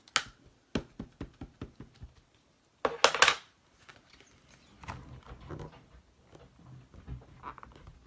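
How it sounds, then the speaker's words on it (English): A dog runs down an indoor staircase: a quick scatter of soft, low paw thumps, fairly faint, following a run of sharp, evenly spaced taps and a brief louder clatter. "I have a dog that's running down the stairs, so I can hear it."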